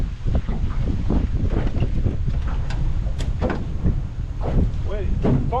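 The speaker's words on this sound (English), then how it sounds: "I'm tired of fighting this wind." Gusty wind buffets the microphone on a windy day of fishing, a steady rushing noise under the scene while people talk intermittently and a few brief squeaky sounds cut through.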